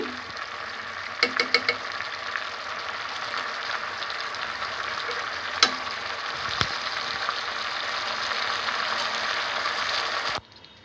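Egg korma sizzles and bubbles steadily in a pan as ghee goes in, a soft, continuous frying hiss with a few small clinks near the start, then a sudden cutoff near the end.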